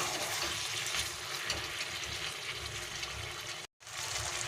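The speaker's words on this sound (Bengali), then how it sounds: "নিয়ে আমি এটাকে জল দিয়ে দেবো" Hot water pours into a pan of jackfruit chicken curry in a continuous, rushing splash that fills the space, briefly cut off near the end, then resumes.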